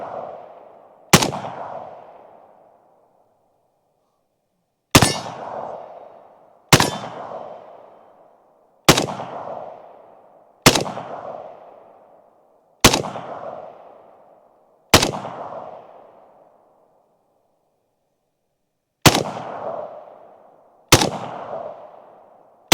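AK rifles, a PSA GF3 and a Zastava M70, fired at a target into a dirt berm outdoors: ten loud single shots at uneven intervals, each with a sharp crack and long ringing echo that fades before the next.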